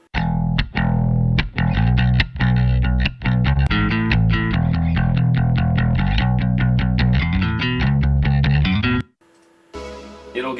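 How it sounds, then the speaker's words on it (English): Bass guitar line from a worship music arrangement, played busy and dense with fast repeated plucked notes over several seconds. It stops briefly near the end, then a softer sound follows. "the bass guitar sounds like this"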